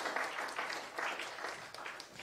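Audience at an award ceremony for a grant presentation clapping briefly, a short burst of moderate, slightly distant applause from a modest crowd.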